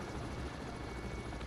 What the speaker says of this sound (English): we have sent out all of our submarine hunting helicopters all at once.